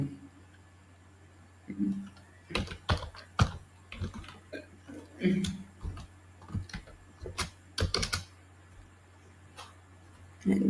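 Fingers type Python code on a computer keyboard, with scattered clicky keystrokes coming in short bursts and pauses, close and fairly quiet over a steady low hum, with brief vocal sounds in between.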